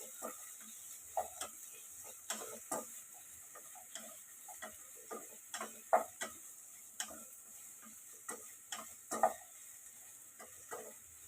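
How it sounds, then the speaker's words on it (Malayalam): Chopped onion and capsicum stir-fried in a pan, with soft sizzling under irregular scraping and stirring clicks of a spoon against the pan, quiet and close, no voices. "ഇനി ഇതെല്ലാം ഒന്ന് ട്രാൻസ്പെറൻ്റ് ആയി വരുന്നവരെ ജസ്റ്റ് ഒന്ന് വാട്ടിയെടുക്കണം."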